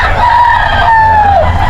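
A single rooster crows loudly and close by at a rooster market in Bocaue, Bulacan, one long drawn-out call that drops in pitch at the end.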